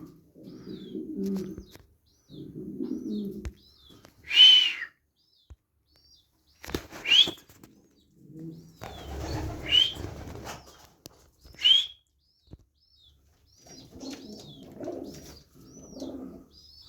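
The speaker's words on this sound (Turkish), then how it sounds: "Kuşlarımız güzel." Pigeons coo in low, soft bursts and take off with several loud, sudden wing-flapping sweeps, the flutters clear and close between quiet pauses, with no talk.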